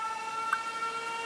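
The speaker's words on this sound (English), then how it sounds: "the air raid siren is one of the scariest noises to me to this day" A steady, sustained air raid siren tone in the video game 13 Sentinels: Aegis Rim holds at one pitch throughout, slightly distant, with faint background hum.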